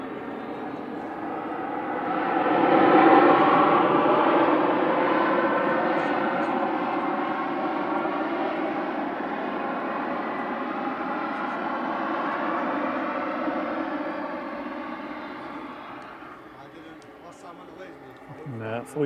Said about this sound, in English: Full use of those reverse thrusts.